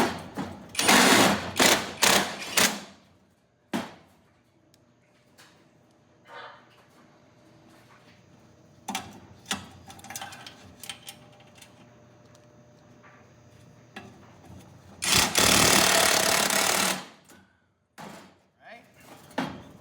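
A power driver sets screws into a convection fan bracket for an Austroflamm or Rika pellet stove, giving several short loud whirring bursts of differing length between pauses, close up, with someone talking between them.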